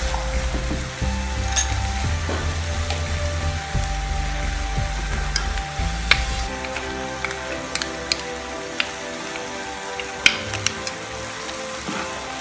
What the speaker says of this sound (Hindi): इसको घी डालकर हम मीडियम फ्लेम पर 10 मिनट के लिए भून लेंगे